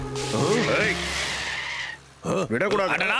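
A jeep tears away with a loud tire skid and engine roar that fades after about two seconds, then voices break in over the quieter scene.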